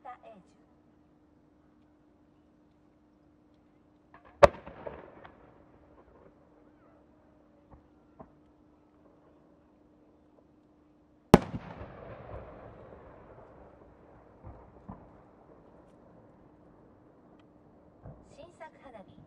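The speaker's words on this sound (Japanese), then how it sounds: "上り極道付き三重新変化菊" Two sharp firework bursts several seconds apart, each followed by a crackling, fading tail, over a steady low hum; triple-changing chrysanthemum shells at the Omagari fireworks festival.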